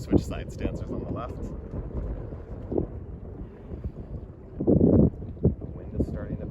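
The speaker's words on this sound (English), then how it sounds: "The wind is starting to pick up here," Wind picks up beside Svínafellsjökull glacier lagoon in Iceland, rumbling across the microphone in low, uneven gusts with a stronger burst near the end, while a person speaks intermittently over it.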